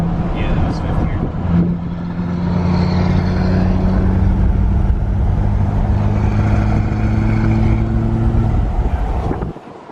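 A Duramax L5P diesel truck fitted with an S400 turbo pulls hard in fifth gear at about three-quarter throttle, outside tow/haul mode, giving a loud, steady engine drone that holds for most of the stretch and then cuts off near the end.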